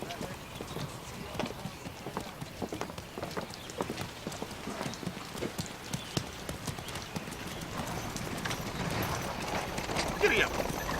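Horse hooves clip-clop in a steady trotting rhythm on the ground, moderately close and continuous throughout, with a faint rain-like patter in the background.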